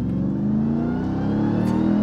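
Engine of a Ram 1500 TRX truck accelerating hard, a loud, close, steady roar with rising pitch through the whole moment, no voices over it.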